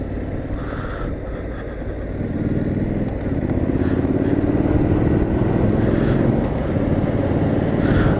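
A 2017 Triumph Street Scrambler engine on a test ride, a steady loud drone that rises in pitch after a couple of seconds as it accelerates, with wind rush throughout.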